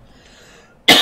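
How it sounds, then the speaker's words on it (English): A single sharp cough bursts out near the end, close and loud, after a stretch of near silence. "I don't know why this cough is happening."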